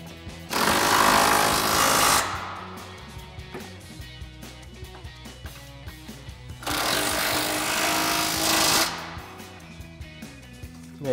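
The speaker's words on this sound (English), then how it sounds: "we'll grab our 21 mil socket and swivel adapter on our impact and tighten these back up" An impact wrench with a 21 mm socket and swivel adapter tightens Jeep Wrangler JK control arm bolts, firing in two loud, close bursts of about two seconds each, separated by quieter clanking and handling noise.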